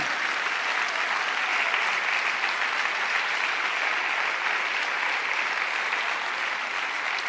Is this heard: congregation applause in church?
yes